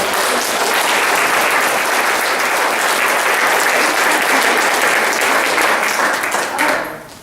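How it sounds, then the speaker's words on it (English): Loud, dense applause from a large audience at a presentation event, continuous clapping for about seven seconds before tapering off at the end. "So we'll do a round of applause for these guys"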